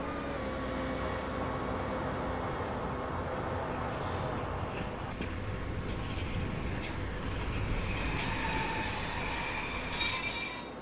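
A train pulling in on the neighbouring track in a train simulator game set at a East German station, long grinding roll with metallic wheel squeal rising toward the end, continuous and close.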